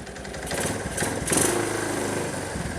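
A Kawasaki KLT185 ATV, just pulled from a snowbank, runs and revs its small engine in a loud, close buzzing with pitch climbing and surging over a few seconds, no talking.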